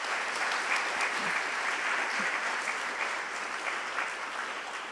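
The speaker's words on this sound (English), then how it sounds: "let's just give one round of applause for everybody that was recognized today" Steady round of audience applause at a senior awards ceremony, many hands clapping evenly at a moderate, somewhat distant level, fading slightly toward the end.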